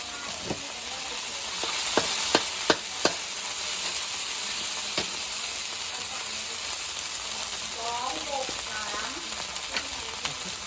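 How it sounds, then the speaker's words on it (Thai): Canned fish chilli paste stir-fries in a pan, a continuous close sizzle broken by sharp scraping clicks of the spatula, with a few quick taps clustered early on. "ก็ผัดคลุกเขาให้เข้ากัน"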